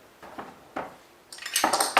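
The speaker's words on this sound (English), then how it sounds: "So now I'll put the blender blades on top." Metal blender blades and a washer are set onto a blender jar, giving a few light clinks and then a louder rattling clatter of metal against the jar, heard close with no speech.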